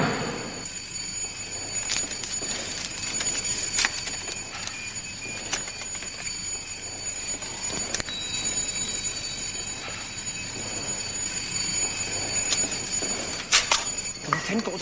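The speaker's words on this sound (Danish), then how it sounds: "Hvor fanden går den alarm endnu, mand?" A continuous alarm rings shrilly and steadily throughout, with intermittent sharp clicks and knocks over it and a constant background hum.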